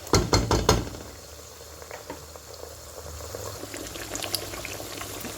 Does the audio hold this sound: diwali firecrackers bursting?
no